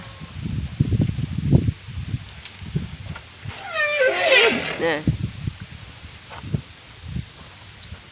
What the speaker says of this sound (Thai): ลมมาแล้ว ดูลมลมแรงมากค่ะ